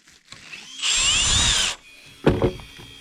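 A power drill backs a screw with a broken-off head out of clamped pressure-treated lumber at a remote Alaskan cabin: one loud, sustained whirring burst, then a shorter, sharper second burst nearby.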